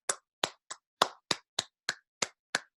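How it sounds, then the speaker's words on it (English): Sparse clapping of about ten separate claps, each crisp and distinct, fairly quiet and evenly spaced, with no talk. "Let's give our guests a round of applause."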